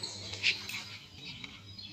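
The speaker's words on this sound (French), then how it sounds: "J'écoute le chant des oiseaux." Faint birdsong in quiet woods, with one brighter chirp standing out near the start and softer, distant calls scattered after it.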